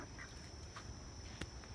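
Pet ducks quacking in an evening garden in Maryland, a few faint, scattered calls against a quiet outdoor background with a steady high whine.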